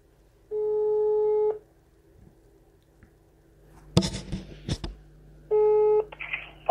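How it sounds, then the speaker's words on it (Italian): A phone call being placed: a steady electronic tone sounds for about a second, a burst of rapid dialing clicks and beeps follows, then the tone returns and cuts off into faint line noise, with no voices. "è giunto il momento della chiamata a Pier Gennaro"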